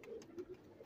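Extra-large Rampuri pigeons cooing nearby, soft low throaty coos repeating in quick succession over a faint background.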